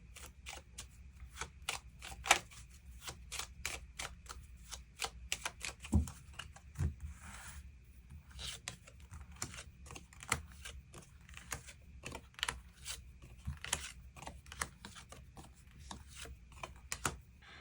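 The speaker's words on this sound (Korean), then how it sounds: "추가 카드로 일별로 월요일부터 일요일까지 어떤 하루를 보내게 될지 추가 카드 뽑아보도록 하겠습니다" Tarot cards being shuffled and drawn for a weekly reading, a dense run of soft, quick papery clicks and riffles that go on steadily and close by, with a few sharper snaps mixed in.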